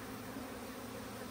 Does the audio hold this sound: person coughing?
no